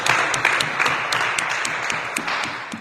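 A church congregation at a bilingual French and English service applauding, a loud, steady wash of many hands clapping close by that tapers slightly toward the end.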